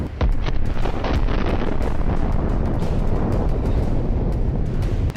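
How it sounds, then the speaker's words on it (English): Large explosion of an armoured personnel carrier struck by a kamikaze drone, a heavy roaring blast followed by sustained rumbling, crackling and wind-buffeted noise recorded from a distance, loud and continuous. "and we see a very large explosion"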